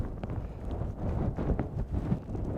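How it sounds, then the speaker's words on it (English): Cold wind blows across a hillside wild camp in the Southern Uplands, a low, rough rumble buffeting the microphone in uneven gusts with no voices. "That wind's still there"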